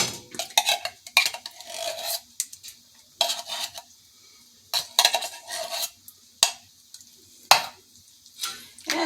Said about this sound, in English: it's just a matter of giving it a little stir